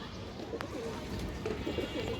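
A pair of Khoiragola pigeons, including a female, coo faintly in a low, soft rhythm against a steady background hiss, with a few brief coos rising here and there.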